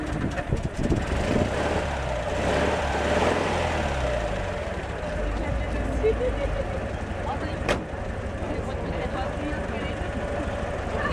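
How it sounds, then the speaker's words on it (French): A Citroen 2CV engine runs with a steady, slightly throbbing idle, heard close by, with a brief sharp knock near the end. "On entend le bruit classique de 2 chevaux."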